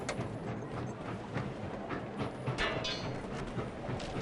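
A train runs along a track in the railroad-building video game Sid Meier's Railroads: a steady, dense rumble with faint rhythmic clatter, continuous and fairly loud throughout, with no talking.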